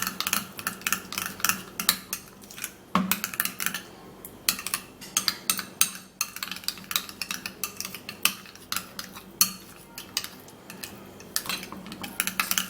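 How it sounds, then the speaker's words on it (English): A spoon scrapes and clinks against a bowl while stirring a rice powder face mask mixture, making steady, quiet, irregular taps and scrapes with no talking. "Stir and watch."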